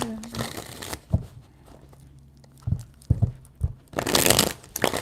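Tarot cards are shuffled up close: two dense bursts of rustling, riffling card noise at the start and end, with a few soft taps and thumps in between and no speech.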